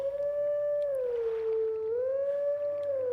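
Wolf howling a melody in the video game Zelda: Twilight Princess HD, a clear sustained tone that holds, dips lower, then rises back and holds again, loud and alone.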